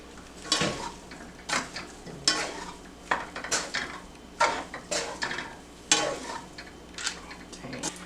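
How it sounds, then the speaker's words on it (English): Vegetarian fried rice with cheese is stirred in a pan, producing repeated scraping and clattering strokes about once a second over a faint background sizzle. No voices. "So I just add some and we're going to mix it all in."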